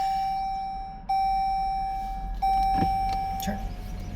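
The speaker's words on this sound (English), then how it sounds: "Rolling my window up too here." A car's electric power window rolls up in steady whining motor runs with a brief pause between them, close and clear inside the cabin, followed by soft rustling and bumps.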